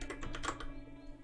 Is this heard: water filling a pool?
no